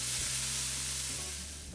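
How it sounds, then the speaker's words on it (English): Leek pieces sizzling in hot olive oil in a pan, a steady close hiss with a soft low hum underneath, no talking. "Check the heat with your hand or by dropping a piece of a leek in and listening for a sizzle"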